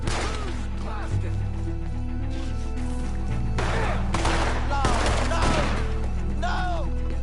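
Scattered gunshots from a firefight in the video game Red Dead Redemption 2, several sharp cracks spread across the stretch over background music, with voices talking in between.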